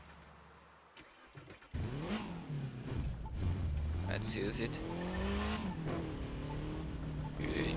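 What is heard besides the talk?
Volkswagen car engine revving in video game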